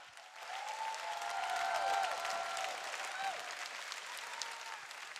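A live concert crowd in Singapore applauds its homegrown performers at a New Year countdown show, with sustained clapping and cheering that swells and then holds, with some voices and a sung tone on top.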